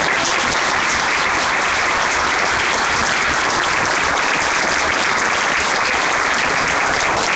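Applause fills a town council session, a steady wash of many hands clapping together at an even level throughout, with no voices on top.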